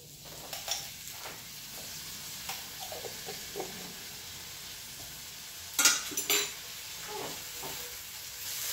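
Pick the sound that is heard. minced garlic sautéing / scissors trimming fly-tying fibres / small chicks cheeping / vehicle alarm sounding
minced garlic sautéing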